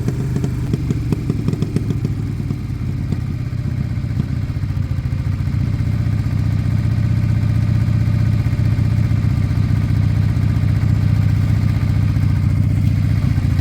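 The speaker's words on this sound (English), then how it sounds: "That's a nice idle. I wonder if that will hold." A restored motorcycle engine, once abandoned, idles steadily and loud and close, a low even throb with faint mechanical clatter running unbroken throughout.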